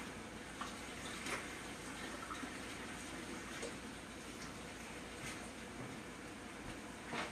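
Tap water runs steadily in a home kitchen while hands are washed between batches of browning beef, a continuous rushing hiss with no voices over it.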